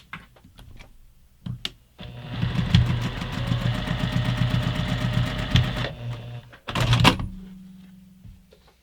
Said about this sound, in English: when I take this over to the sewing machine, I'm going to sew directly on top of that line